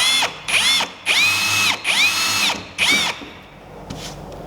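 A power drill whines up and down in five close, loud bursts into a duck boat hull with a small bit, each rising and falling in pitch, then a faint final blip.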